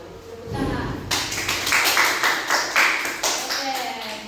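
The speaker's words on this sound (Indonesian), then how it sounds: "Tepuk tangan." A classroom of children claps together in a brisk, regular rhythmic pattern, each clap sharp and close, after a moment of murmuring voices.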